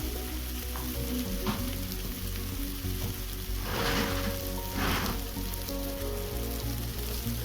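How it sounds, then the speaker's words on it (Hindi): Soaked poha with salt frying in a pan, a steady sizzle throughout with two louder bursts of stirring partway through, close and without voices. "चलिए अभी अच्छे से फ्राई करते हैं पोहा को"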